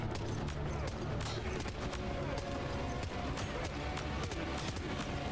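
Gunfire in the video game Death Stranding 2: rapid, loud bursts of shots crackling in quick succession throughout, with dense sharp reports close and continuous, and faint voices underneath.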